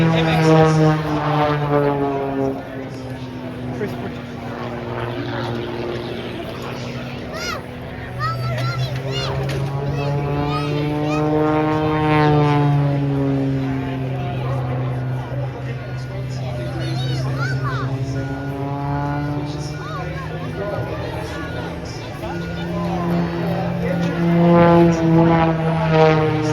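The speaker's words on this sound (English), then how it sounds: "So he's flying MXS." An MXS aerobatic plane performs at a Red Bull air show, its propeller engine droning continuously with rising and falling pitch as it maneuvers, under steady talk from a nearby speaker.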